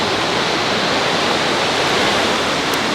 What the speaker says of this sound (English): And then you can also see The beautiful view of river here.